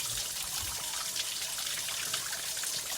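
Drinkable stream water trickles along a hiking trail, a steady, close, hissing flow that runs evenly throughout with no voices.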